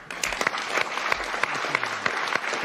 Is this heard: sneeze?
no